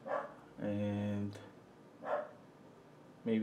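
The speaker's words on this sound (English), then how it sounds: "maybe she's not gonna stop barking" A small dog barks at home, a few sharp yips spaced apart in a quiet room, moderately close, with brief gaps of near silence between them.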